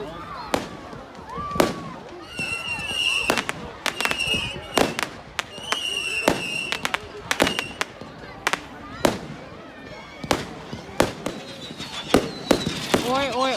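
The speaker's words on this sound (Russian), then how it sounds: "Какие фейерверки у нас." Bonfire Night fireworks in England go off as a rapid string of sharp cracks and bangs, some with whistling trails and crackle, heard close and loud while people talk nearby.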